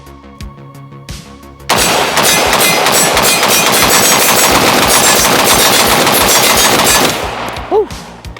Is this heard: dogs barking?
no